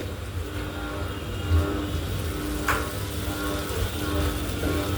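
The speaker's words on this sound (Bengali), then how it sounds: "এপাশ ওপাশ করে আমি এটা ভাজবো যেন ভিতরেটা সিদ্ধ হয়ে যায়।" Spiced chicken pieces frying in a pan on low heat, giving a steady, soft, close sizzle that holds evenly throughout with a faint knock partway through.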